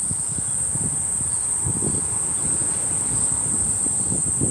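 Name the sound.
cicadas buzzing in a Tokyo park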